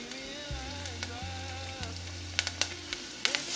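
Ginger, garlic and thyme fry in a hot pan with a steady broadband sizzle, with a low hum underneath and a few sharp scraping clicks of stirring toward the end.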